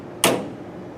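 A single sharp clack as the door of a Nexus automated sandcarving machine shuts, close and fairly loud, then a brief fading tail.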